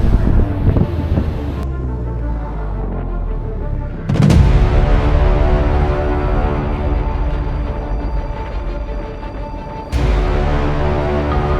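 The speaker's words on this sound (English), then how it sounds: "Whoa, the ocean looks angry." Rough, stormy ocean surf and gusting wind as Tropical Storm Debby approaches Murrells Inlet, a loud continuous roar of crashing waves and heavy wind buffeting the microphone, with sudden bursts of stronger gusts partway through.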